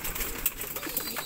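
Pigeons coo close by in low, throaty rolling calls that repeat through the moment, with nobody talking.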